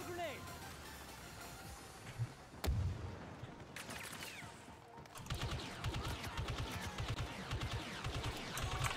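Sci-fi blaster gunfire in Star Wars Battlefront II, arriving as a sharp crack, a few scattered shots and then a dense stretch of rapid firing under ongoing game noise.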